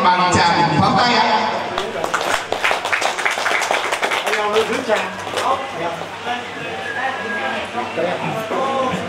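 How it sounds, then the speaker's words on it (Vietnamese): Guests clap at a Vietnamese wedding ceremony, a burst of crisp, close applause that thins out over several seconds while people keep talking. "Một lần nữa thay cho lời muốn nói bằng tràng pháo tay ạ."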